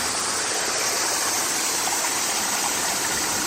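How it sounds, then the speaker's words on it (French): Small stream flowing outdoors in Japan, a steady broadband rush of water close by, continuous and even throughout with no talk. "Avec le petit ruisseau."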